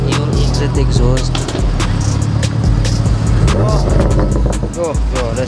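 A BMW E30 engine revs and roars through a loud new exhaust, rising and falling in pitch, with crackling pops between revs and other traffic noise around.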